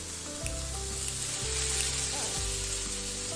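Potatoes and tomatoes fry in a pan for a Khandeshi kadhi khichdi, giving a steady, close sizzle with low stirring scrapes beneath it and no talk.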